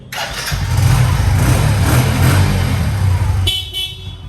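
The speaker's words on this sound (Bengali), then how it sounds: "আবারও সেল করিয়ে দেখাই দেখেন" A motorcycle offered for sale is self-started: a short electric starter whir catches into a loud, close engine rumble that idles unevenly for a few seconds before cutting back.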